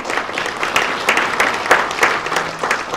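A conference audience claps steadily for a speaker about to take the stage, a dense, even patter of many hands that holds throughout without voices over it.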